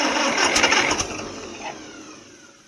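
An International 300 tractor engine catches on starting fluid, giving a brief loud burst of rough firing nearby that quickly fades as it dies away.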